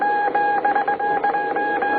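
Telegraph key tapping out a message in an old radio drama, a steady run of bright, beeping tones in short rhythmic bursts over a faint hiss, with no voices.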